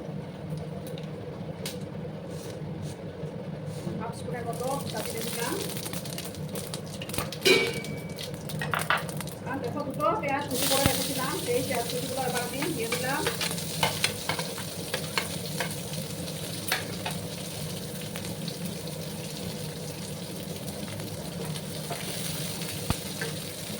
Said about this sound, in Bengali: আমি এবার গোড়ার মধ্যে সর্ষের তেল দিয়েছি দেবো দুটো দারচিনি দুটো কাটানো এলাচ দুটা লবঙ্গ আমি দিয়ে দিলাম